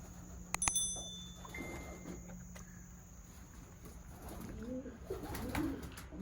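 Pigeons cooing softly in a breeder loft after days of heavy rain, low murmuring coos near the end over a steady background hum, with a few sharp clicks early on.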